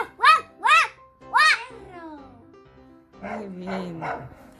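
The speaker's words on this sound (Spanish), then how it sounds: "¿Qué es? Un perro." A dog gives three sharp, close barks in quick succession, followed by softer, lower yelping vocal sounds.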